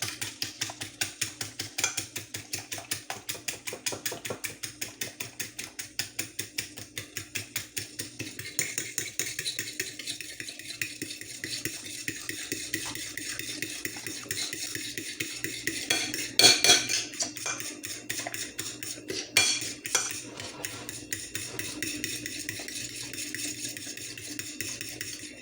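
A spoon whisks French toast egg mixture in a bowl, a rapid, steady clatter of metal against the bowl running throughout, with one brief louder scrape partway through.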